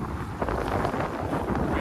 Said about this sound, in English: West-southwest winds blowing maybe low 20s, high teens, low 20s. Occasional gusts